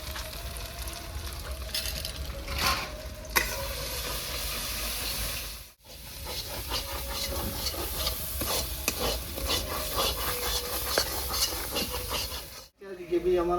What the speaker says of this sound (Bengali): গ্রেভি আমার ভালো করে ভেজে নিয়েছি